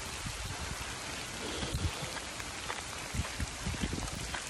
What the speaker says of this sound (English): Pouring down hailstone.